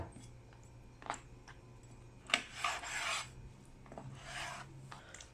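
Quiet, close-up knife cutting chicken skin: a few short rasping strokes across a cutting board, with small taps between them.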